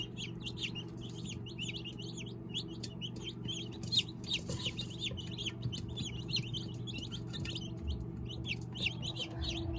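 Newly hatched day-old chicks peep continuously in a rapid, high chorus of many overlapping chirps over a low background hum.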